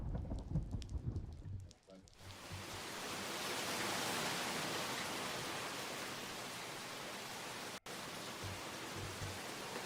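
A storm scene in a SNES role-playing game brings hissing synthesized rain and a rumbling thunder roll after a brief busy stretch of game sounds, steady and fairly loud, with one abrupt cut near the end.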